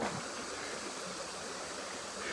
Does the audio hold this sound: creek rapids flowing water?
yes